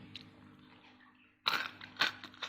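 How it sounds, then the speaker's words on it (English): Crisp crunching bites of homemade no-knead bread up close, a few loud chews in quick succession after a quiet pause, with no talking. "I don't think they want to hear the sound of the bread eating."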